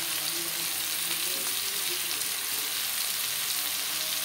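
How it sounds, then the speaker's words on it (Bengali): Marinated chicken pieces frying in a pan with onion and tomato, a loud, continuous close sizzle and crackle of hot oil, steady throughout with faint stirring noises mixed in. "এবার দিয়ে দেবো ম্যারিনেট করে রাখা মাংস।"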